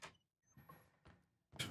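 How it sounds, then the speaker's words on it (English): A house door slides open in the Generation Zero video game, a short mechanical whoosh and rattle heard in a few quiet bursts ending in a louder swish, with no talk. "Why the doors open like that, I have no idea."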